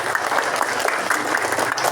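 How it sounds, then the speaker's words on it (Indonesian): A school assembly crowd applauds in a steady, dense wash of many hands clapping, fairly close and sustained for the whole short stretch with no talking. "Tepuk tangan."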